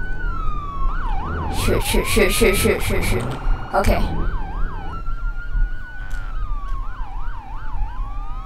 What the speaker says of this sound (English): You can hear some sirens.